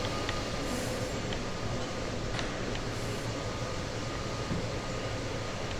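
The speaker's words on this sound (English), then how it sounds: "Anyways, we're heading off now." A German passenger train pulling double-deck DOSTO coaches departs in the simulator game Train Sim World 5, giving a steady, close rolling rumble with a faint mechanical hum and no talking.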